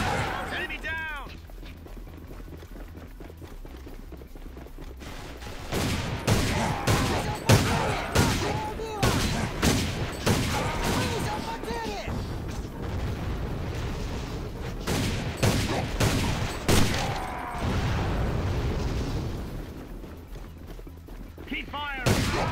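Gunfire in the shooter game A.V.A during a prison-break rescue mission: sustained bursts of rapid automatic fire with short pauses, loud and close, alongside footsteps and brief voice lines.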